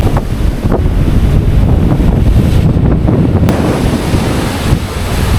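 Sea waves roll and break at Tajpur beach, a loud, continuous roar of surf mixed with heavy wind buffeting against the microphone, with no voices.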